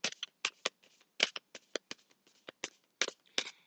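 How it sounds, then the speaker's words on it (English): Rider-Waite tarot cards being shuffled by hand, a run of crisp riffling bursts and soft flutters that come in quick irregular clusters, close and fairly quiet with no voice. "and I'm just going to shuffle."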